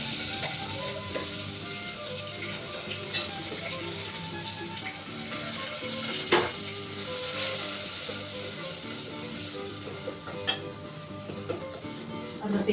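Onions fry in a pan for a vegetable sabzi, a continuous soft sizzle and crackle with occasional clinks of a stirring spoon against the pan.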